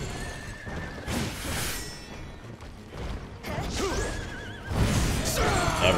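A horse in the action game Wo Long: Fallen Dynasty whinnies loudly several times during a boss fight, mixed with hoof clatter, crashes and busy in-game effects.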